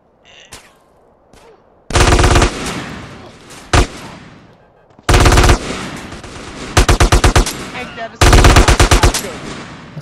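Gunfire in GTA San Andreas: loud bursts of automatic fire and single shots in several clusters over ten seconds, sharp and close, separated by quieter gaps.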